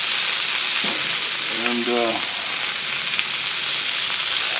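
Oil sizzles and crackles steadily on a Blackstone griddle cooking sausage and peppers, a constant bright frying hiss throughout, with a brief spoken word near the start.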